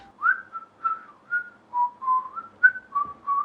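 Someone whistles a short, wandering tune of quick rising and falling notes, clear and close with no other sound.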